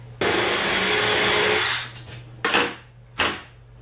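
A cordless drill whirs loudly for over a second, then gives two short bursts as the screw seats.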